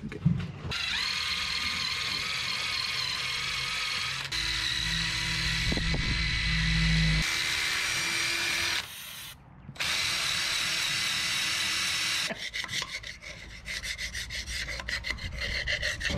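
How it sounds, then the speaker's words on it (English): Scraping and cleaning a stuck engine on a 1931 Ford Model A barn find, heard as steady close rasping and rubbing strokes with brief pauses and occasional mechanical clicks. "I'm gonna keep giving us a scraping and a cleaning"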